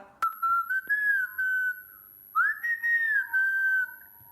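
A man whistles a cheerful tune alone, two clear melodic phrases with a pause between them, close and fairly loud.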